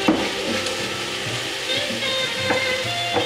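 Spaghetti sauce browning in a pan on the stove, giving a steady low frying sizzle with faint stirring scrapes and clinks throughout.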